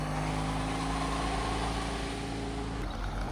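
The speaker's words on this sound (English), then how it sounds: "Definitely makes a lot of noise though for such a little car." A Fiat 500's small engine drones steadily and fairly loud at a classic car and bike breakfast meet, a continuous low rumble that fades slightly near the end as the car drives away.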